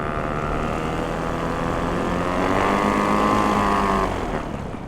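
The small glow engine of a SkyMax Star Frame RC plane runs rough and uneven while flooding, a steady buzzing drone that swells slightly, then eases off near the end, close by with no talking.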